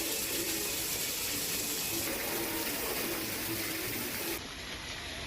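Heavy monsoon rain pouring steadily, a loud, dense, unbroken wash of water that carries on without letup.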